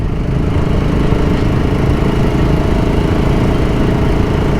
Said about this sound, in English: it's a very peppy engine, this single cylinder liquid cooled